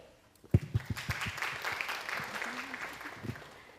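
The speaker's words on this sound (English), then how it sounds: "Please clap your hands for the answer you think that is correct" An audience in a school presentation hall claps in response to a quiz question, starting with a few sharp claps that build into moderate, steady applause before tapering off.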